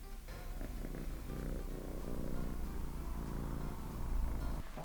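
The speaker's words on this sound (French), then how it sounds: "Il ronronne dans mes draps sales." A cat purrs in dirty bedsheets, a soft, steady rhythmic rumble heard close up and alone, continuing without pause.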